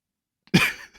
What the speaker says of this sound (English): I'm just coughing dying into the microphone laughing